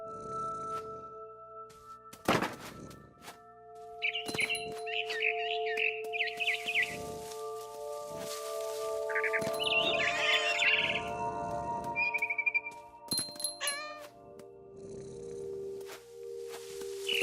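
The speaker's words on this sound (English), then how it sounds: "Then I heard chirping outside my window. It was a barn swallow going back to her nest." Bright barn swallow chirps and short tweeting bursts in the video game What Remains of Edith Finch come and go over a steady synthetic background hum, with a few sharp clicks scattered throughout.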